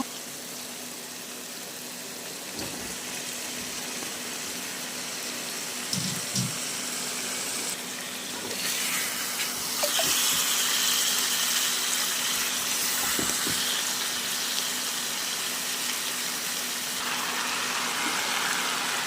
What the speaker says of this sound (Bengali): এবার পরিমাণ মতো জল দিয়ে দিলাম, এবার ঢেকে দেব